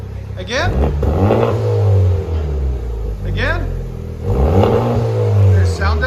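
Loud, close revving from a 2021 Honda Civic Type R fitted with a VR Performance titanium valvetronic exhaust: several sharp throttle blips rise and fall over a deep, continuous idle rumble.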